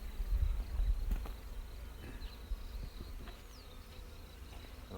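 Honeybees buzz steadily around an opened hive frame during a queen cage check, a close, continuous hum with brief louder passes and some handling bumps, no talking.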